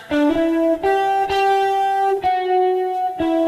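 A distorted electric guitar plays a short riff of sustained notes, each attack clearly struck, loud and close with no voices.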